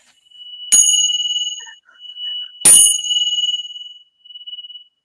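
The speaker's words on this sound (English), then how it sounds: "You're going to do the bells?" Two clear bell strikes a couple of seconds apart, each ringing out bright and sustained before slowly fading, with faint small tinkles between.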